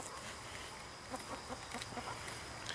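Chickens cluck softly inside a henhouse on a farm, a scattering of short clucks at low to moderate level with steady background hiss.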